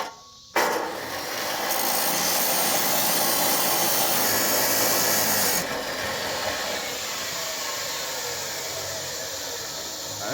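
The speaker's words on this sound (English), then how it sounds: "But we have a chop saw." A chop saw trims a tube on a supercharged 440 drag car, running as a loud, steady whine and grinding for most of the clip, then easing slightly after the midpoint.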